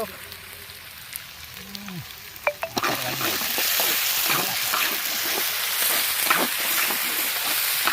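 Chicken tikka frying in a pan as Schezwan sauce goes in, a steady close sizzle that swells after a few sharp clatters of utensils partway through, with no talk.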